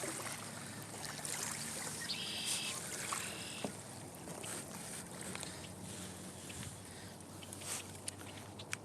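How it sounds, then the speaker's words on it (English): Wake from a passing boat washes and laps against the water's edge as a soft, continuous splashing at moderate distance, with faint background sounds and no clear talk. "Oh, here comes some waves."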